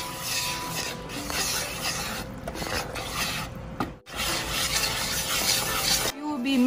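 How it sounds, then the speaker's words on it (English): Egg and milk batter for Korean mozzarella cheese corn dogs whisked steadily in a bowl, a continuous close scraping and stirring rasp with no talk, pausing briefly near the end. "We will be mixing this until the batter is smooth and silky."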